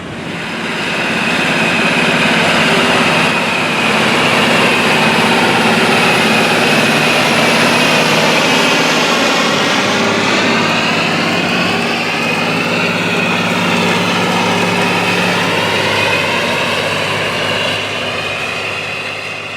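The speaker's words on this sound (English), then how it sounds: "It's being operated by a 320 engine horsepower model John Deere 8320R fixed frame tractor" A 320-horsepower John Deere 8320R fixed-frame tractor pulls a chicken litter spreader across a field, its heavy engine droning loudly and steadily with a constant whine and mechanical hum throughout.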